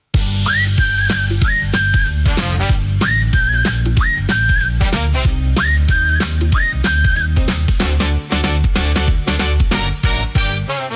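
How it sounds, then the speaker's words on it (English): Whistle melody within a chill jazz hip-hop track with a World Cup match-day feel, a bright sliding whistle phrase repeating three times over steady drums and bass, loud and upfront. "Kickoff countdown whistle."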